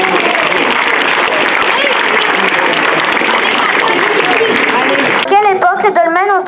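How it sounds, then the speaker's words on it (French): Dense audience applause fills the room for about five seconds, then cuts to a voice speaking. "On peut applaudir."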